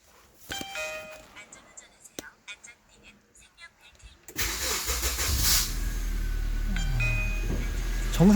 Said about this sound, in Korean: 정상적으로 시동이 잘 됐습니다